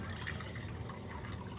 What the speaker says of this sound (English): pour in the vinegar